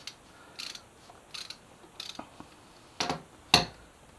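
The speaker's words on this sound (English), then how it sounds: "Get this bolt out here." Ratchet clicks while a brake caliper bolt is removed on a Kawasaki Ninja ZX636, several short bursts of close, sharp clicking spaced across a quiet workshop, the last burst loudest.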